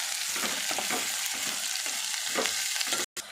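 Chopped onions dropped into hot oil with crackling cumin seeds in a kadai, giving a dense, continuous sizzle with scattered stirring clatter, steady and close, ending with a brief cut.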